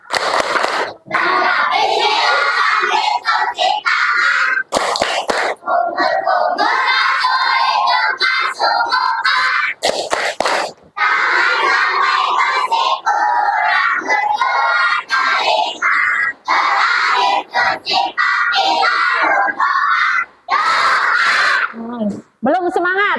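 A class of schoolchildren stands and chants the rhythmic tepuk wudhu clapping song in unison, loud and close, their voices shouting the verses with claps woven through and brief pauses between lines.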